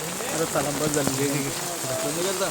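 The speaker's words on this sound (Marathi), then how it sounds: "पाऊस भयानक असा पाऊस" Heavy rain pours steadily in the Konkan, a dense hiss of drops on surfaces, with faint voices murmuring underneath.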